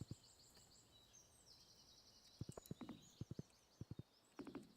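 Horse hooves clip-clopping in the farming game Stardew Valley, faint, soft clusters of taps that are quieter on sand, arriving in short irregular bursts, with light chiming ambience overhead.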